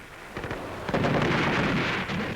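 Distant gunfire and explosions in a WWII newsreel as troops advance toward Stolberg, a rumbling series of heavy blasts building to a sustained roar, somewhat muffled and without talk.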